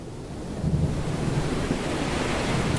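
Ocean waves in an 18th-century sailboat simulator game surge and wash steadily, a dense, rushing roar of surf mixed with wind, loud and continuous for a few seconds with no voices.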